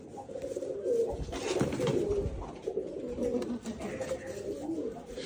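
Rajshahi Giribaz pigeons coo in low, rolling murmurs, several birds overlapping continuously at close range, with no talking.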